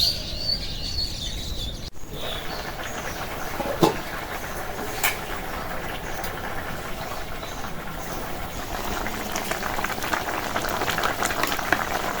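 Fish curry simmering in a covered pot, a steady low bubbling and hiss that runs throughout, with faint bird chirps outdoors and a few small clicks, no talk.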